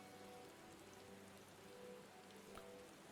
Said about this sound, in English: And of course it starts raining right now.